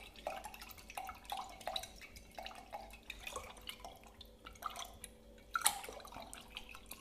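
Cold water trickles and drips in a quiet kitchen onto sugar for water kefir, a faint irregular stream of small splashes and patters with occasional louder drops.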